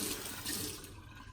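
Water runs steadily from a tap to wet a straight razor before a wet shave, a continuous close splashing hiss that holds for about a second with no voice over it.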